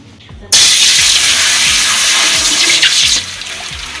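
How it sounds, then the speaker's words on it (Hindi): Water pours steadily into a cooking pot for chicken biryani over a wood fire, a loud continuous rushing splash that starts abruptly and eases slightly near the end. "अभी हमने पानी शामिल कर दिया।"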